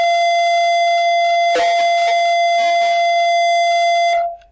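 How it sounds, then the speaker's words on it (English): School tardy bell ringing in a classroom, a loud continuous electric buzz that holds steady for about four seconds before cutting off, with a few people briefly talking over it. "And there's the tardy bell."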